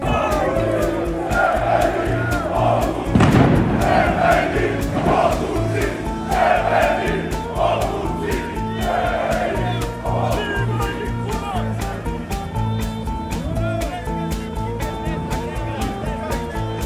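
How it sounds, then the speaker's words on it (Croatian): Cheering PFK CSKA Sofia football fans in Sofia, Bulgaria: a large crowd roaring and chanting in repeated rhythmic waves, loud and sustained throughout, with voices shouting within the mass. "ispratili su me veseli navijači nogometnog kluba"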